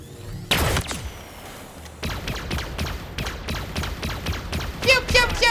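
Plasma pistol fire in the video game Halo Infinite, a run of rapid energy shots pulsing in quick succession at close range, preceded by a louder burst and ending in a cluster of bright zapping bursts.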